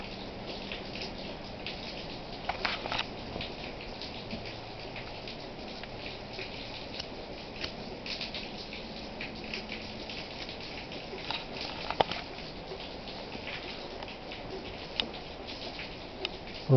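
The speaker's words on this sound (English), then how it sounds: "it's turning more to snow than rain." Light precipitation falls outdoors on a cold day as rain turns to snow, giving a soft, steady patter with a few sharper drops, fairly quiet and continuous with no voices.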